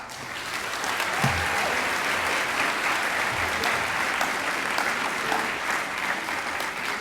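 Applause for 12th grade students at a high school academic achievers recognition ceremony: a large audience claps in a full, continuous roar, with a few faint voices mixed into the crowd.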